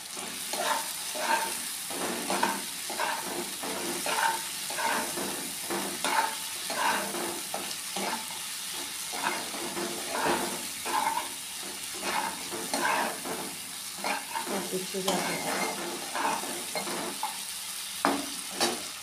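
Sliced ridge gourd fries in a pan while a spatula stirs it in regular scraping strokes, a soft sizzle running underneath at close range, with no voices.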